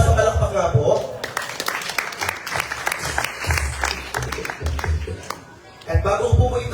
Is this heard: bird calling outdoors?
no